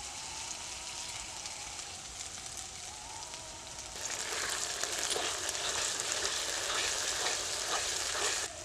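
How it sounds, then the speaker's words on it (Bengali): Poppy seed paste dropped into hot oil with spices, where a steady frying sizzle jumps to a louder, denser crackle partway through and then keeps going, heard close and continuous with no talking. "এবার আমি পোস্ত বাটা দিয়ে দিচ্ছি।"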